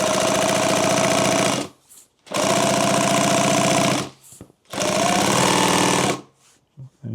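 Industrial sewing machine stitching a ballistic duffle bag, running in three loud sustained bursts of a couple of seconds each, separated by brief pauses.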